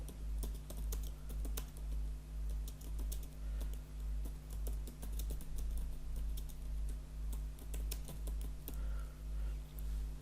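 Steady run of keyboard keystroke clicks as text is typed on a computer keyboard while setting up Balochi script in Arial font, close and even in rhythm, over a constant low electrical hum.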